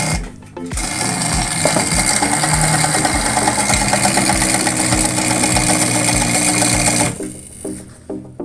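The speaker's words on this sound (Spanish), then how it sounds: "probamos que esté cosiendo con una mejor tensión" An old sewing machine stitches a test seam, running steadily and rapidly up close with a dense mechanical whir and clatter for several seconds before stopping.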